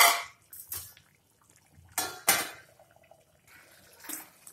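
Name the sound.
pot being covered with a lid while cooking sabzi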